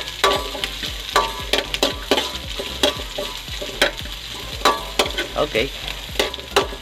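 Red onion and pork frying in a pan, sizzling steadily while a utensil scrapes and stirs in repeated sharp strokes; a brief spoken word slips in.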